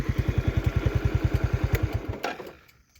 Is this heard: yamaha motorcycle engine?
yes